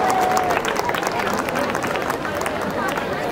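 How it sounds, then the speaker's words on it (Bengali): An audience at a college social and freshers' event claps continuously, a dense patter of many hands under a voice speaking into a microphone. "আর একটু হাততালি হোক সাথে"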